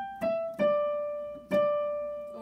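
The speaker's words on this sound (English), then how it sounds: "I'm going to come over here and play that on the piano." A short motif played on the piano: three struck notes at an unhurried pace, each ringing and fading, close and alone with no talk.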